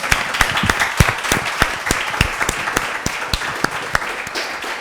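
An audience at a formal presentation event claps steadily, dense applause with individual sharp claps standing out, sustained evenly throughout and no talking on top.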